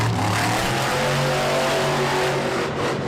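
Monster truck engine revving hard during a freestyle run on an arena floor in St. Louis, a loud, sustained roar with rising and falling pitch, close and continuous without talk.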